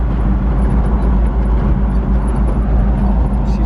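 A vehicle with a freshly rebuilt 4L80E automatic transmission drives on the road, its engine and drivetrain a steady, loud, close rumble with no voices.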